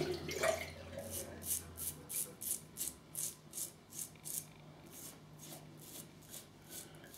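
A RazoRock Hawk safety razor is rinsed under running water, a soft trickle with a series of regularly spaced splashy taps from the razor, close and quiet, with a voice at the start.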